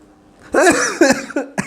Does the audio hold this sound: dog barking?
no